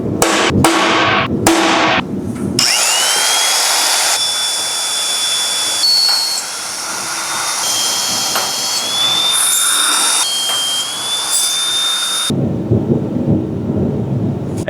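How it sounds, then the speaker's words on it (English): A loud, sustained grinding whine of a magnetic drill cutting holes in steel, its pitch shifting slightly as it cuts, after a few sharp clanks. "you can see that mag drill just makes super quick work of drilling out these holes."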